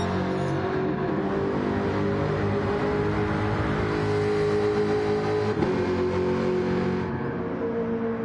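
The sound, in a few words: race car engines in Gran Turismo video game race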